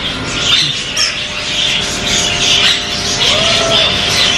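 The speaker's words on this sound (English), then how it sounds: "As of now, they are here inside because it's hot." Caged birds squawk, chirp and coo continuously indoors at a bird shop in Souq Waqif, several calls overlapping at close range with no speech.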